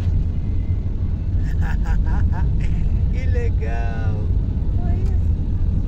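A truck passes on a rainy highway in Amazonas, its wheels throwing a heavy spray of water, a steady loud rumble and hiss under excited talk from people nearby.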